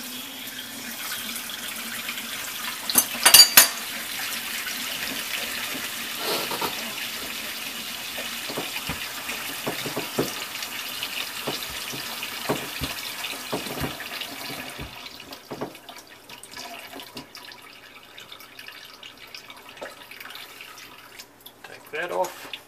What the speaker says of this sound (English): The water running off here.